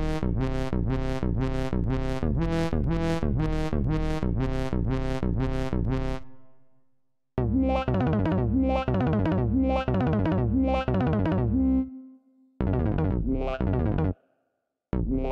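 Audiofier Sequ2r synth plays a MIDI sequence that shifts partway through, bright buzzy rapid repeated notes giving way to a different choppy pattern with abrupt stops and short silent gaps.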